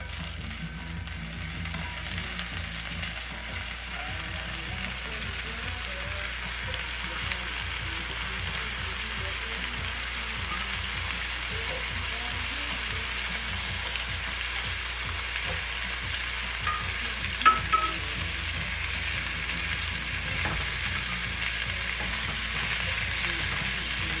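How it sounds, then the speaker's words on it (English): Sweet potato wedges sear in duck fat in a pan over medium-high heat, giving a steady loud sizzle and crackle that runs unbroken from start to finish, with an occasional small pop. "So we got our potatoes searing in the duck fat right now"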